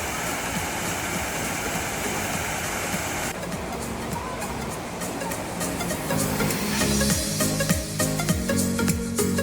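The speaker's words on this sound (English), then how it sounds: "This is the water that came from the lobby." Water from the lobby water feature at Disney's Wilderness Lodge flows in a constant broadband rush, loud and close, with busier splashing toward the end.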